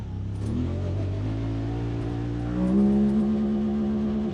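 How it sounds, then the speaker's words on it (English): A Honda Talon 1000X-4 side-by-side engine, held in second gear in manual mode, revs up and holds a steady buzzing drone at the rev limiter, loud and close with no talk. "you can hear we hit the rev limiter there"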